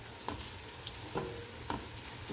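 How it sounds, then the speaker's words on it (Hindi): Chopped onions frying in a pan while a spoon stirs them continuously, a soft, steady sizzle broken by a few scraping strokes spaced about a second apart, close by and fairly quiet, with nobody talking. "मैं इस तरह से इसको कंटिन्यूसली चम्मच चला रही हूँ।"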